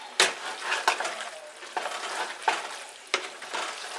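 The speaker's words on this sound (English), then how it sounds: "Stir that around a little bit." Tomato paste being stirred in a pan for taco spaghetti: a soft background sizzle broken by repeated sharp spoon scrapes and knocks against the pan at an irregular, unhurried pace.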